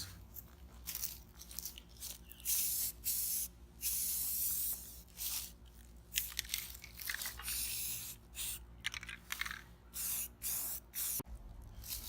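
Rust-Oleum spray paint hissing onto a Jeep tire carrier for a second coat, in repeated bursts of a few seconds each separated by short pauses, close and steady with no talking.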